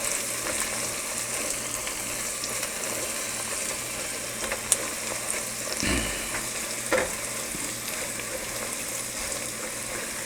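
Coriander and mint leaves sizzle and fry steadily in hot oil for a veg brinji, a close, continuous crackling hiss with a few soft stirring scrapes and no talking.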